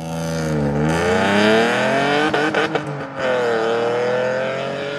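An Alfa Romeo 147 with the Busso 3.2 V6 revs hard, its loud, rising engine note climbing through gears, dropping briefly during a shift with a burble, then pulling strongly again up close.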